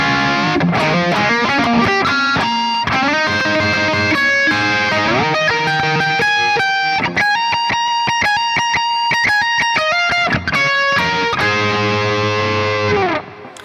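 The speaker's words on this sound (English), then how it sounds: "I put a little bit more of delay and a little bit more of distortion." A distorted electric guitar plays a melodic solo from a song, notes ringing out with echoing delay trails, loud and sustained throughout.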